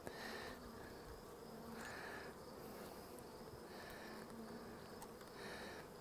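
Many bees buzzing in a soft, continuous drone that swells and fades, a quiet hum of insects close by with no talking.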